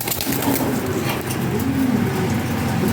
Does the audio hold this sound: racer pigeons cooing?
yes